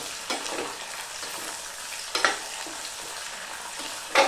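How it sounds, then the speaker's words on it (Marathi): Peanuts and peas fry in oil with browned onions for spiced rice, giving a steady close sizzle broken by a few louder scraping stirs. "त्यात टाकते शेंगदाणे, वाटाणे, ते पण तेलावर चांगले फ्राय करून घेते."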